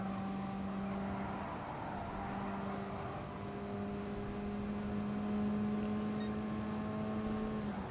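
A race car engine in GT Sport at Interlagos after the throttle is lifted: a faint, steady droning hum with a constant pitch that dips slightly at the very end.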